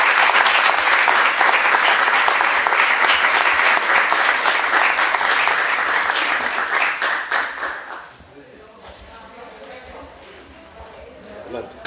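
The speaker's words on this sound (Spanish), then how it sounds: "en principio les pido un aplauso" Sustained applause from a congress audience, loud dense clapping for about eight seconds before it fades out into quiet room noise.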